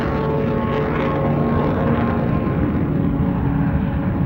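An old Boeing 737 of Aloha Airlines climbing in flight, heard from inside as a constant, loud roar of engine and cabin noise, steady throughout.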